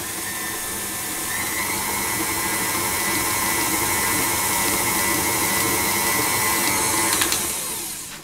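Electric mixer creaming butter and sugar in a bowl: a steady, loud motor whir holding constant for several seconds, with a brief rattle near the end.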